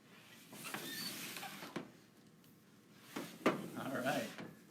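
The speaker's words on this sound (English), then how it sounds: "This is a heavier drawer." Heavy museum specimen drawer in a mammal collection being handled, with scraping slides and a couple of sharp knocks amid soft rustling, close and fairly quiet.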